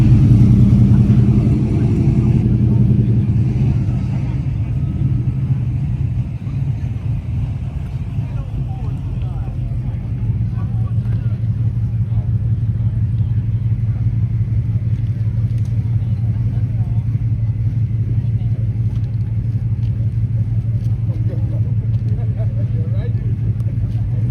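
A drag-racing truck on a street pass gives a loud engine roar at the start, then fades to a steady, droning rumble that carries on for a long stretch while people talk over it.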